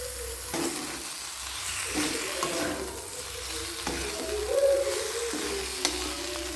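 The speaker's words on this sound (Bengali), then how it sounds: "এবার আমি দিয়ে দিচ্ছি কষে রাখা ফুলকপি গাজরটা আর আলু।" Cauliflower, carrot and potato sizzle and fry in a spiced masala, a continuous hissing crackle broken by stirring scrapes and clatters, close and moderately loud with no voice.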